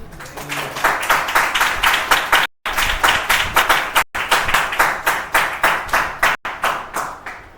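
A church congregation at a Sunday service claps in unison, a loud rhythmic run of sharp claps that breaks off briefly three times and then resumes, with no talk over it.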